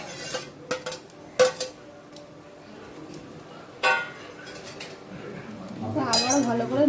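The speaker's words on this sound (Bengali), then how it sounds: "এবার মাছের মাথা দিয়ে আবারও ভালোভাবে নেড়ে নিচ্ছি।" A metal spoon clinks and scrapes against a pot while catla fish heads are stirred, bursts of sharp rattling spaced irregularly, ending in a louder, sustained sizzling scrape, close and without speech.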